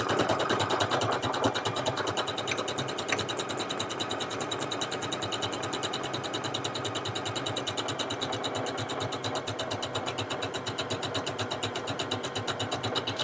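A Necchi Creator C2000 sewing machine runs steadily in embroidery mode, a fast, even mechanical whir and ticking stitch rhythm holding at moderate volume throughout, with no voices.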